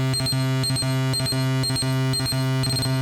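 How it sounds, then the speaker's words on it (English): A modular synthesizer gate pulse ratcheted times two, turned into audio: a loud, buzzy, harmonic-rich tone chopped into quick rhythmic bursts, with paired stutters repeating steadily and no voices. "So now here's a ratchet times 2."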